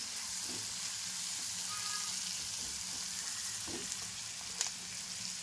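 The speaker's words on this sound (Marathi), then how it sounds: "कांद्याचं जरा कच्चा स्मेल जायपर्यंत जरा भाजून घेऊ" Onions fry in a pan with spinach and garlic nearby, a soft, steady sizzle with faint stirring clinks, quiet and close with no talk.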